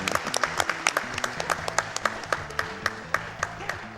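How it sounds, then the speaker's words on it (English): Live audience applause at a speedrun event for Castlevania: Circle of the Moon on GBA, a steady crowd clapping under chiptune game music with a regular beat. "Can we get a round of applause?"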